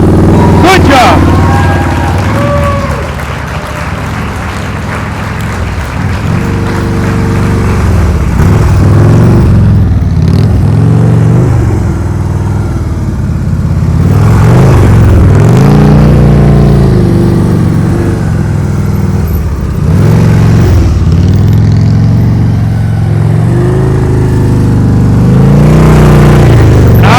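A motorcycle creeps along at slow speed in a parking-lot practice drill, the engine revving and dipping unevenly as the clutch is popped, while someone talks over it almost throughout.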